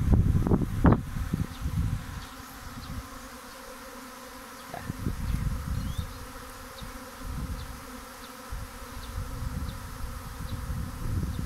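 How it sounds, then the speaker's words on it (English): A dense swarm of honeybees landing in a hive box hums steadily and loudly, a continuous close buzzing drone that swells and fades slightly throughout. "Just listen to this roar."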